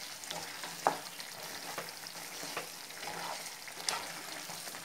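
Chicken changezi being stirred and mixed in a pan after green chilies and coriander are added, soft sizzling with a few sharp scraping clinks of the spoon against the pan.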